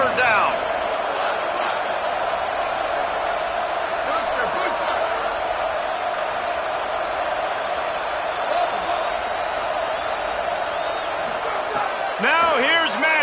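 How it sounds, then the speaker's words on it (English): Stadium crowd roaring for Texas Tech on third down in a college football video game, a constant loud wash of cheering with whoops and claps, a commentator talking over it throughout. "Guns up, and so is the noise. The crowd electric, trying to help Tech on this 3rd down."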